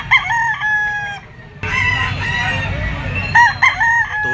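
A Boston white-legged stag rooster crows loudly and close several times among other roosters crowing and clucking at a market.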